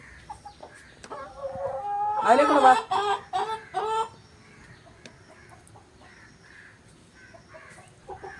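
Chickens cluck in a short, loud burst of calls near the middle, with a person speaking quietly before and scattered soft clucks and bird noises afterward.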